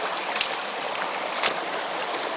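A small amount of water diverted into a channel for work flows steadily over washed, clean ballast, a continuous soft rushing with a couple of brief splashes, no voices.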